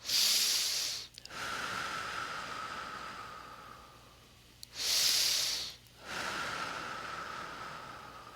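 Slow breathwork: two long hissing inhales, each followed by a drawn-out softer exhale, close to the microphone with no talking.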